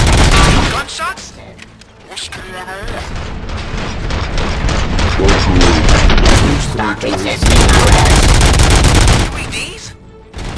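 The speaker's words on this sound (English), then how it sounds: "Gunshots?" Gunfire in the RoboCop: Rogue City video game, loud bursts of shots and machine-gun fire with booming impacts that run through most of the clip, mixed with game speech and mechanical noise.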